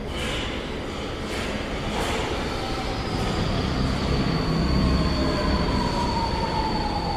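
A train rumbles in steadily, growing louder as it nears, with a long high metallic wheel squeal drawn out over the approach.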